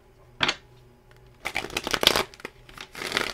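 Tarot cards shuffled by hand in two rustling bursts, a short riffle near the start and a longer, busier run of flicking and sliding after a brief pause, close and fairly loud with no talking.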